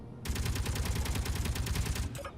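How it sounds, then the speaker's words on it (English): A gatling gun in Space Engineers fires at an armour block in one loud, sustained rapid burst of about two seconds, the rhythmic rattle starting and stopping sharply. "Let's see if the gatling gun has penetration."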